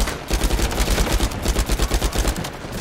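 Rapid automatic gunfire in the video game Uncharted 4, a dense, loud volley of shots in quick rhythmic bursts lasting throughout with no voices.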